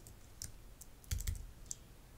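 Keys on a computer keyboard are typed with a few quiet, close clicks in short bursts, faint against near silence and with no talking.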